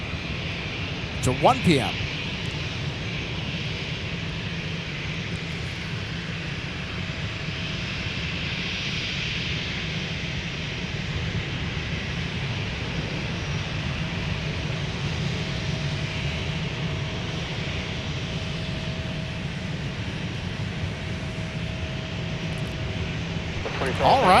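Boeing 737 jets taxiing at Minneapolis–St. Paul airport, giving a steady, distant jet-engine roar that runs the whole time beneath someone talking.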